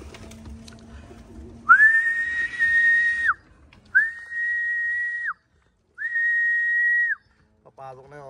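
A person gives three long, high, sustained whistles to call animals at feeding time, one after another with short gaps, loud and close, over faint background noise and a few soft coos.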